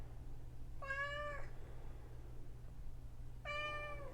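Two distinct meows from a female house cat, each about half a second long and spaced a few seconds apart, ring out close by over a faint, steady low hum indoors.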